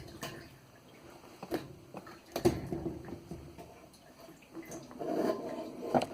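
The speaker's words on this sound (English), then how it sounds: "you can hear the gas dripping back into the tank." Gasoline drips back into the fuel tank of a Toyota Echo as the fuel pump assembly is lifted out, a quiet, irregular patter of drops with a few sharper taps, close by in a hushed space.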